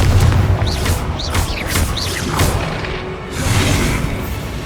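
Confringo and Incendio spell blasts in Hogwarts Legacy burst out as loud booming fiery explosions with whooshing bursts, several in quick succession over rumbling game noise.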